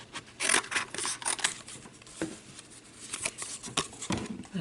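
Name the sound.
scissors cutting paper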